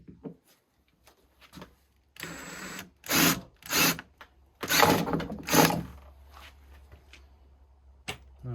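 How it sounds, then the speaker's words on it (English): A drill bores out a rivet in the driver's door lock of a Laguna 3 in several short, loud whining bursts with pauses between, close by and with no talk. "So here we have a little rivet. I'm gonna have to drill this out."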